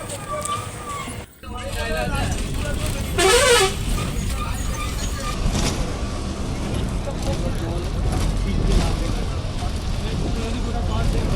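A bus pulling up at a roadside stop near Gangpur station, engine rumble and passing traffic with a bright horn toot, while people talk nearby over the busy street noise.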